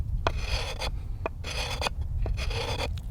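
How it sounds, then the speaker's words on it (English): The 90-degree spine of an LT Wright GNS knife scrapes dry juniper wood in three steady, rasping strokes, each close and loud, with a light click at the start of each pass. "You can just take that 90-degree spine and make small scrapes"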